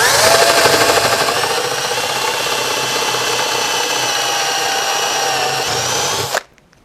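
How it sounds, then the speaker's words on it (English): A power drill bores a hole through a piece of wood over a scrap board, a loud steady high whine held for about six seconds before cutting off abruptly. "And then you're ready to drill your hole."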